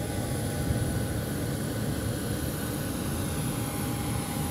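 Airliner jet engines roar at an airport near runway 36. The sound is a loud, steady, broad rumble with a whining hiss, unbroken and without voices.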